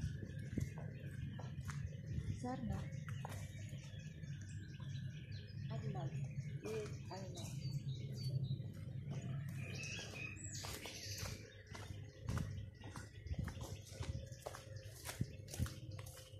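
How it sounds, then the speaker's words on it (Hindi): Birds chirp by the Raba river in Bochnia, Poland, with bright repeated tweets and short calls over a steady low outdoor rumble of water, moderately distant and continuous throughout. "ये देखें परिंदों की आवाज़ें में भी आपको आ रही हों।"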